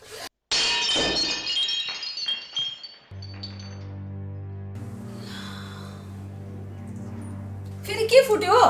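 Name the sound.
glass falling and breaking while washing dishes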